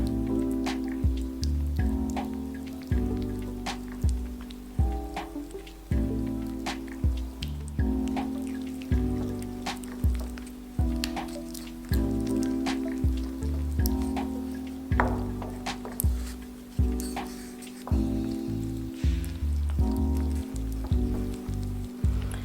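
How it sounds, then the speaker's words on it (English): A honey mixture for cookie sandwich dough is creamed in a bowl, giving a loud, close, rhythmic churning that swells and cuts roughly once per second for the whole stretch, with no talking. "And now we are going to cream it together."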